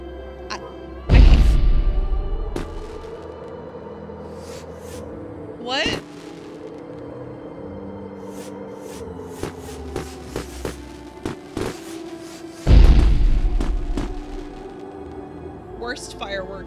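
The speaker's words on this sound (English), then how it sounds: "Worst fireworks ever." Fireworks bursting in the video game Beacon Pines: two loud booming explosions several seconds apart, with sharp crackles and pops scattered between them over a low background score.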